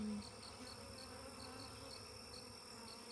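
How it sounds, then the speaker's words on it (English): A steady drone of honey bees in an opened hive during an inspection hums throughout, a dense buzzing like many bees, soft and continuous with faint repeating high tones above it. "Lots of good looking bees."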